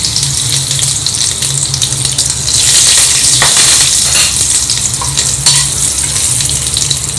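Mustard seeds, urad dal and curry leaves frying in hot oil in a kadai on the stove, a loud steady crackling sizzle with scattered pops throughout, close and alone.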